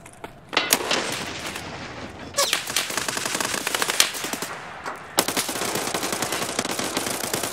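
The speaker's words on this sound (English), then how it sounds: "Is my gun shooting bullets?" Rapid automatic gunfire from a video game gun, loud bursts of tightly spaced shots rattling in several long strings with short pauses between them.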